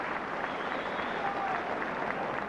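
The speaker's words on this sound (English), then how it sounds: "a big round of applause for young Bater" A football crowd at a 1974 Second Division match between Bristol Rovers and Aston Villa applauds, steady broad clapping filling the ground at a moderate, even level throughout.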